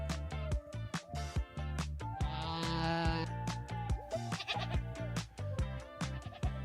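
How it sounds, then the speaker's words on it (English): Goat bleating as a free sound effect, a series of wavering, nasal bleats over a musical loop with steady beats and harmonic tones, the bleats standing out clearly and loud. "Free goat sound effects."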